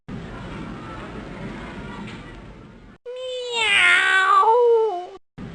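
In the Arthur's Teacher Trouble video game, a single drawn-out cat meow sound effect rings out loud and clear after a stretch of background music. It bends in pitch before ending abruptly.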